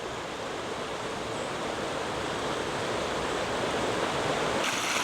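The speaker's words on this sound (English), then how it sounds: "you can still get good views of the creek from up here" Creek water at Seven Tubs Nature Area rushes steadily below a hillside trail, a dense, even hiss of flowing water heard from some distance with no voices.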